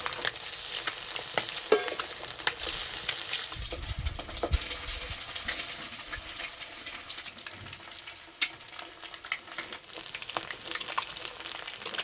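Eggs fry in oil in a pan, a continuous crackling sizzle with scattered pops and a few utensil taps as they are turned, close and fairly even throughout.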